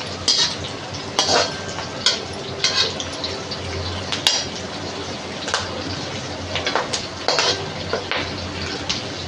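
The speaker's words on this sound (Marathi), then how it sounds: "कुरकुरीत कढीपत्ता कुरकुरीत होईपर्यंत आपल्याला तळायचं आहे" Curry leaves fry in hot oil for thin poha chivda, a soft steady sizzle punctuated by sharp clinks and scrapes of a spoon stirring in the pan.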